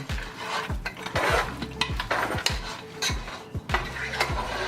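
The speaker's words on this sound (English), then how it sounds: "And what I'll do is I'll just mix all of this around." A spoon scrapes and stirs spicy goat with curry and peppers in a pan, giving repeated rhythmic scraping strokes and clanks over a faint sizzle, close and fairly loud with no talking.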